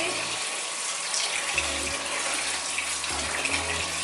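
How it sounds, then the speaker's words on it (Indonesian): Running water splashes steadily from a tap while raw tilapia is washed, with soft thuds of handling in the basin and no talking. "sekarang kita cuci dulu pemirsa ya. Kita cuci sekali supaya amisnya hilang ya pemirsa"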